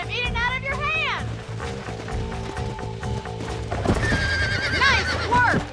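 In the video game Red Dead Redemption, a horse being broken lets out loud, shrill whinnies near the start and again later, with clip-clopping hooves and game sounds running underneath.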